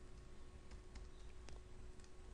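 Typing on a computer keyboard while writing code, a quiet run of light, irregular key clicks against a faint steady hum, no talking.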